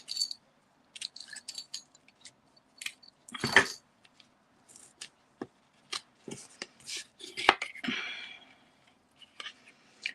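Card for card making is cut in a series of short, close, crisp snips and rustles, with quiet gaps between them and a louder cluster of cuts near the middle.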